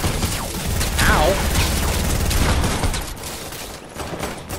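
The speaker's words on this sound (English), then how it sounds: "Who's shooting at me?" Rapid bursts of gunfire in the video game Fortnite crackle fairly loudly over a dense, busy mix of game sounds, continuing steadily for several seconds before easing slightly.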